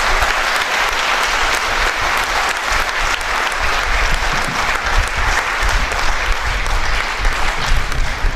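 Lecture audience at a Brahma Kumaris talk in Pilani applauding loudly and continuously, a thick wash of many people clapping with steady intensity throughout.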